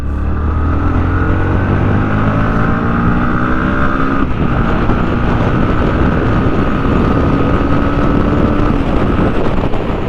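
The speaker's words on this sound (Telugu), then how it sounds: "చూసారు కదా బ్రో, ఆ ఎగ్జాస్ట్ నోట్ కానీ అండ్ అలాగే ఆ లెవెల్ ఆఫ్ పర్ఫార్మెన్స్ కానీ" A 2023 Bajaj Pulsar NS160 E20 motorcycle runs with a loud, continuous exhaust drone that rises slightly in pitch as it revs, heard close up over a rushing wind noise.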